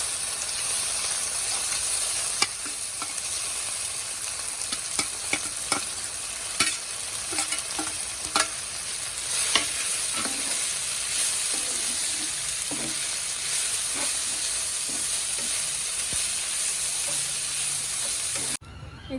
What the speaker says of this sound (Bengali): এবার চিড়েগুলো দিয়ে দেবো